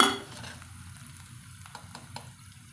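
Homemade chili powder is stirred into frying sundakkai (turkey berries), with a brief scrape of a spoon against the pan and a few soft clinks over a gentle, close sizzle.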